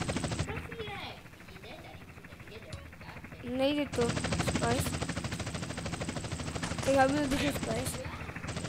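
Police helicopter chase in GTA San Andreas: a steady rotor drone with heavy machine-gun fire, broken around the middle and resuming loudly, while players talk over it.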